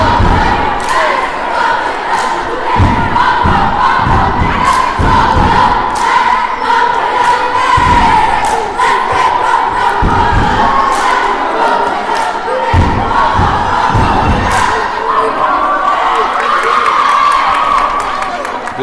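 Cheerleaders and a crowd shout and cheer at a boys' high school basketball game, a loud sustained roar with rhythmic thumps and chants running through the gym.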